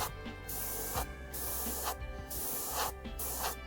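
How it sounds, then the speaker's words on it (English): Aerosol paint sprayed onto paper in a series of short, close hissing bursts, about five passes separated by brief pauses, with no talking. "I guess I could spray a little bit on the paper or the tape here"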